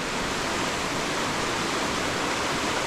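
A waterfall at the Hafod Estate in Mid Wales roars as a dense, constant broadband rush, loud and close, with no voices.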